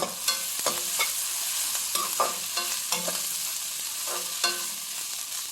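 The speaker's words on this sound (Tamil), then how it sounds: "வெங்காயம் நல்லா வதங்குது. சோம்பு 2 போட்டுக்கலாம்." Onions frying with fennel seeds in a pan for a potato, pea and chicken curry, a steady close sizzle broken by repeated scraping stirs of a spoon, with no talking.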